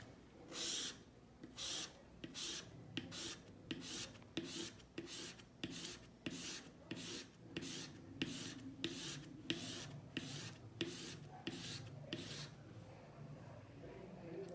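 Steady back-and-forth rasping strokes, a quick regular rhythm of a woodcarving gouge scraped over sandpaper while sharpening, close and fairly quiet, with faint voice underneath.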